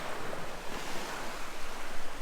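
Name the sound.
incoming tide waves on the shore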